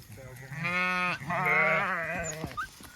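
Sheep and lambs bleat close by at a farm gate, two long wavering calls one after another, with a faint voice in the background.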